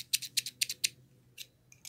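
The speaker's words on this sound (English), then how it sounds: "We have these beautiful scissors." Small pink-and-blue scissors from an imported crochet hook set snip open and shut in a quick run of five crisp close clicks, then a pause and a few more, with no voices.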